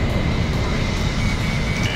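A jet aircraft engine running at full throttle in the flight combat game Ace Combat Infinity: a steady, dense roar with a continuous whine, loud and unbroken throughout with no pauses.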